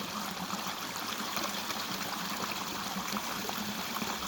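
Creek water flows and burbles steadily, a soft continuous wash with no voices or other sounds.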